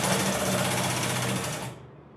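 An embroidery machine stitches a tack-down line in the hoop for a zipperless sunglass bag, a fast, steady mechanical buzz of needle strokes running for under two seconds before stopping abruptly.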